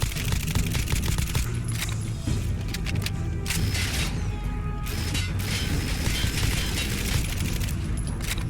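A super mutant's minigun in Fallout 4 fires in a dense, sustained stream of rapid shots with mechanical clatter and booming impacts, loud and continuous throughout with no pauses.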